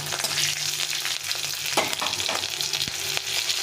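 Three green chilies hit hot oil with already-fried tempering spices in a pan, giving a steady, close sizzle broken by a few sharp crackles and stirring scrapes, with no talk.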